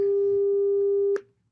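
A pure, steady 400 hertz electronic sine tone sounds for just over a second, then stops with a faint click.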